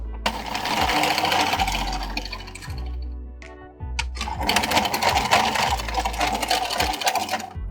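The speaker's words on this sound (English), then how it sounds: "to cast off, you're really just gonna crank a few rows with your waste yarn" A hand-cranked knitting machine knits rows of waste yarn to cast off a sweater, giving loud clattering mechanical passes close up, one long sweep, a short pause with lighter clicks, then another sweep.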